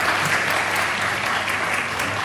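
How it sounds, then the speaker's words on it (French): An audience at a French-language talk applauds, with steady, dense clapping that fills the short moment without letup. "Chazak Omaro, vous pouvez applaudir quand même"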